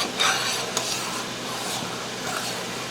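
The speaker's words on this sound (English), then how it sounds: "That is a true rolling boil. And you do not stop stirring this, folks." Black currant jelly at a rolling boil is stirred nonstop in a pot, giving a steady bubbling sizzle with a few sharp scrapes and knocks of the spoon early on, close and moderately loud, with no talk.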